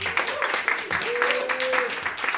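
Audience at an open mic poetry night at a community centre clapping in scattered bursts, while a voice briefly carries through the applause.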